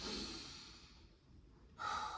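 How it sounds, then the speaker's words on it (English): Slow, deep breathing during a seated breathing practice for energy, heard up close as a long airy exhale that fades away, followed by a sharp nasal inhale. "literally just start breathing"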